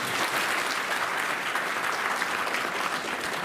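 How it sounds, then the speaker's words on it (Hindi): Dense, sustained applause from a crowd at a workers' union rally, steady and fairly loud throughout with no pauses. "एक बार जोरदार तालियों से अभिनंदन"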